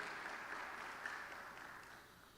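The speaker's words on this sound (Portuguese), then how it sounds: "Você pode dar um aplauso por essa graça, essa misericórdia, esse favor de Deus?" A church congregation applauds during a family worship service, a sustained wash of many hands clapping at moderate distance, steady then gradually easing, with no speech over it.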